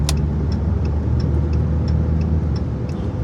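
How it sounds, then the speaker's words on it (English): A semi-truck rolls past on the road, its engine a steady, loud, close drone with faint ticking that holds for the whole stretch. "I thought about songs that, wow, that guy's got a lot of lights on his truck."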